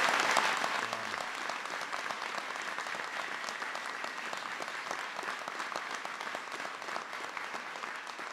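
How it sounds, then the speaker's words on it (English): An audience applauds during a presidential speech on immigration reform, a dense, sustained wash of many hands clapping at a steady level for the whole stretch, with a slightly louder burst at the start. "please give Tolu another round of applause"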